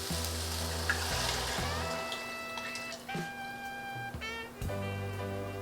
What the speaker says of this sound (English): we're gonna saute them a little bit before we add the vegetable broth